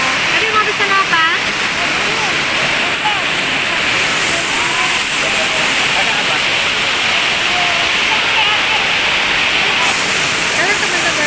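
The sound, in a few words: heavy rain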